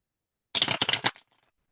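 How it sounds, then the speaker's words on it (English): A tarot card deck shuffled once quickly, a brisk burst of riffling card noise lasting about half a second, close and moderately loud, then fading into quiet. "Give it a good quick shuffle here."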